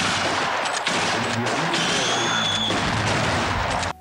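Gunfire from soldiers in a Doctor Who episode: a dense, loud burst of rapid shots and blasts over a continuous roar of noise, close and sustained, with a brief high whine in the middle.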